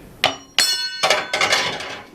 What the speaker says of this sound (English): Nothing the big wooden hammer won't take care of.